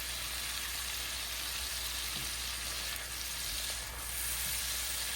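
Garlic paste fries in a pan with a constant, dense crackling sizzle, a continuous close hiss with only slight swells and no voices.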